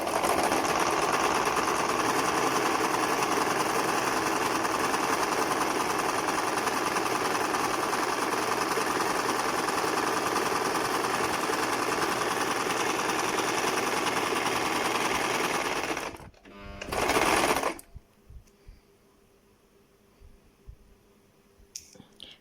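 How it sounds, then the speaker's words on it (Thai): A sewing machine runs steadily for about sixteen seconds, stitching a 12 cm cloth strip folded in half for a face shield, then stops; a short burst of handling follows before near quiet. "มาพับครึ่งนะคะ แล้วก็เย็บนะคะ เราเย็บทั้งผืนเลยนะคะ"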